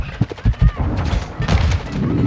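Gunfire in a military shooter video game, rapid bursts of shots followed by a denser fusillade, loud and close, with in-game radio chatter and a player's voice underneath.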